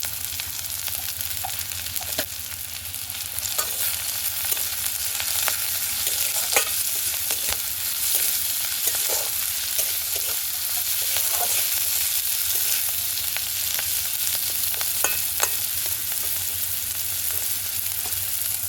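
Fish oil frying in a pan with drained cauliflower florets added, giving a steady, loud sizzle throughout with frequent stirring scrapes and clicks of the spatula, close up and with no talk.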